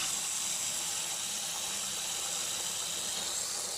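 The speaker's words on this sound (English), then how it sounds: "So then I just run the cold water." Cold tap water runs steadily into a pot after crayfish have boiled for eight minutes, a continuous, fairly loud broadband rush with no talk over it.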